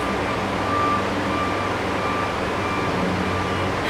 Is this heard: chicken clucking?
no